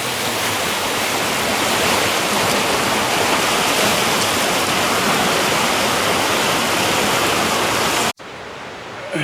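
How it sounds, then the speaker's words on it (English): River water rushes and swirls over rapids in the Verdon Gorge at low flow, making a loud, continuous roar close by that cuts off abruptly near the end. "Look at the water going swirling down"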